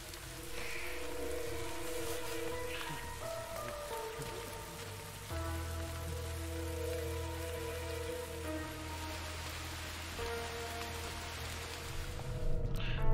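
Steady rain falls across the scene in the War Mongrels video game, a constant wash of drops with tonal music layered over it throughout.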